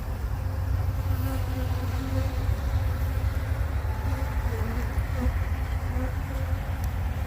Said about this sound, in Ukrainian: Ось так бджоли собі ходять.